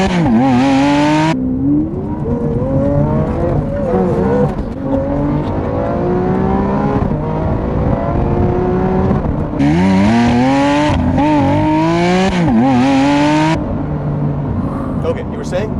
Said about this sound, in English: Nothing like the roar of V12 engine.